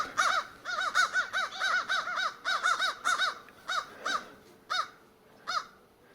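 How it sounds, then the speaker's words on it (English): Several crows caw near a honey bee colony, a lively run of harsh, repeated calls in quick bursts that thins into a few spaced single caws, fairly close with no talk. "the crows have noticed me"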